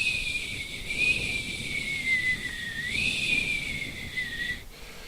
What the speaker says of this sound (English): that wind started picking up again just outside of her bedroom window, whistling through the branches of the trees